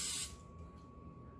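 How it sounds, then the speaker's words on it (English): Cooking spray is sprayed into a 13x9 baking pan in one short, hissing burst that ends abruptly, followed by quiet room tone with a faint steady hum. "you take a 13x9 pan and you want to spray it with cooking spray"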